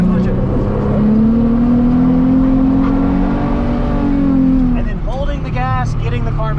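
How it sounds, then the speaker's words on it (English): A car engine revs hard while drifting, with a rising, sustained whine that holds steady for several seconds, then drops away as a voice speaks over the fading engine. "this is third easy turn, 30 mile an hour, dip in, punch it"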